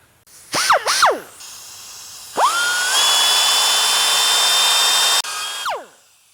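A honing tool works a Harley-Davidson chopper part with a high, whining drill-like spin that starts and stops in short bursts, then runs as a steady shrill whir before cutting off.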